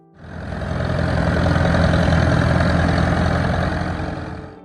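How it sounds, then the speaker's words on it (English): An Allis-Chalmers D14 tractor engine starting up and idling, a loud, low, steady rumble that rises quickly, holds evenly for several seconds, then tapers slightly at the end. "a tractor that feels strong yet friendly from the moment the engine settles into its slow, steady rhythm"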